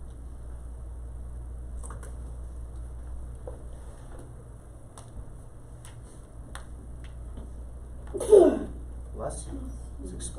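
A single sharp sneeze bursts out in a classroom over a steady low hum, preceded by scattered faint ticks and shuffles and followed by a brief softer sound.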